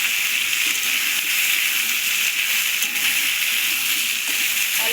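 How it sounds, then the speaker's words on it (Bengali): Big chunks of potato frying in oil until lightly browned produce a loud, continuous sizzle with a constant bubbling hiss and no voices over it. "তো বন্ধুরা দেখো, আলুটা বেশ ভাজা ভাজা হয়ে গেছে।"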